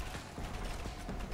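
A weapon is reloaded in Dark Sector with a short, continuous run of mechanical clicks and ratcheting metal, heard alone at moderate level.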